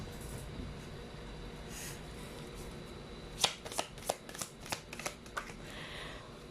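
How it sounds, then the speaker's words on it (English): Tarot cards are handled and drawn, with a quiet stretch of faint rustling followed by a run of about nine crisp, close card snaps and flicks in quick succession, no talking. "let's just pull up more cards here"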